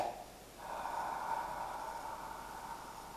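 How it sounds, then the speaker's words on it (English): Open-mouth exhale for ujjayi pranayama breathing: a soft, close, breathy hiss like fogging glasses, rising after a brief pause and held steadily to the end, alone in a quiet room. "you start with the exhale. It's like you're fogging up a pair of glasses"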